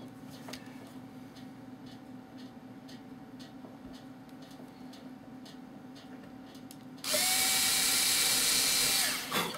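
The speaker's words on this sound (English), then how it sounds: "I'm going to drill this other side over here while we're waiting on that" A power drill whirs loudly for a couple of seconds near the end while building a boat hull, after a stretch of quiet ticking and light handling noises.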